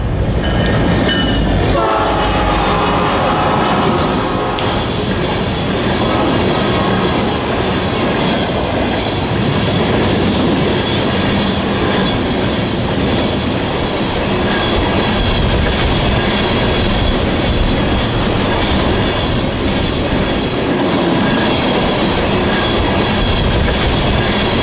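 A Norfolk Southern freight train led by two SD70ACe and a Dash 9 diesel locomotive rumbles past close by with a steady roar, clattering wheels and a brief horn near the start.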